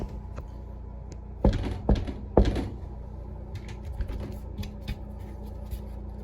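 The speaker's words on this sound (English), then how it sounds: "I'm going to tap on the door 3 times." Three sharp knocks on a door in quick succession, followed by a few softer scattered taps and small handling noises in a quiet room.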